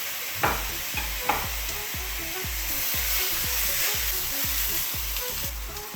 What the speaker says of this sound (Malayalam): അത് കൂടെ ഇട്ട് പിന്നെ നമുക്ക് നന്നായിട്ടൊന്ന് വഴറ്റാം